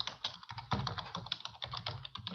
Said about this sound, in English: if it's you that's typing there